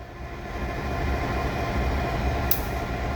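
A museum locomotive idles at a railway turntable, giving a steady low mechanical rumble and hum close by, with a brief hiss near the end.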